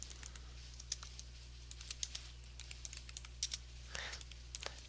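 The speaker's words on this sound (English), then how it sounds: "we are now going to type in our second paragraph" Typing on a computer keyboard during a software lesson: steady, irregular key clicks run throughout at moderate level over a constant low electrical hum, with a brief denser burst near the end.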